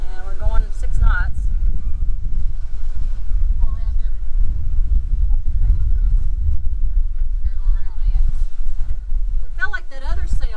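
Strong wind at around 17 knots buffets a sailing boat under way at about 6 knots, a constant roar and gusting rumble in the microphone, with people talking briefly at the start and end.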